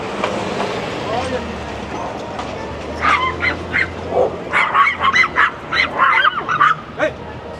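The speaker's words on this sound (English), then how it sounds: "Bunch of very excitable little dogs." Several small, excitable dogs bark on a busy downtown Toronto sidewalk near Queen and Spadina, rapid sharp yaps in clustered bursts close by, over city street noise with a person talking.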